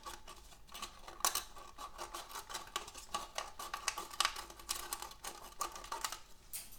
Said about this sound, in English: if you cut the rim off, you can squeeze the cup better